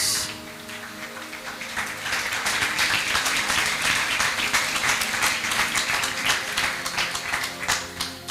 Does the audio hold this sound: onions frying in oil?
no